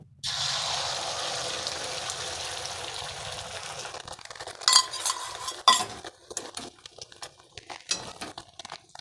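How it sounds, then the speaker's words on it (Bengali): Beaten egg hits a hot pan with a brief sizzling hiss, then turns to scattered clinks and scraping as a spoon stirs it into a carrot and egg dish; no one speaks. "এরপর দিয়ে দিচ্ছি ফেটানো ডিম"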